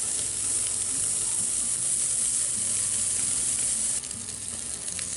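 A huge sous vide ribeye, already cooked, is seared on a Sportsman's Grill, its fat edge held with tongs, giving a loud, continuous close sizzle that eases slightly near the end.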